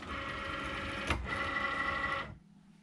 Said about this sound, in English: And now I'm going to load the mat into the machine.